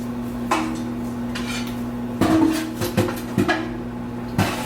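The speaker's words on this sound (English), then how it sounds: "I'm going to wash up the little bit of dishes that I've used at this point" Dishes clink and clatter in a sink in several sharp bursts over a steady low hum, with no talking.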